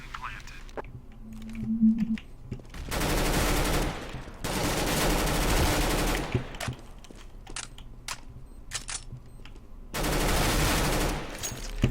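Bursts of AUG rifle fire from Counter-Strike: Global Offensive, three loud sustained automatic volleys separated by short gaps with quieter game noises and footsteps between.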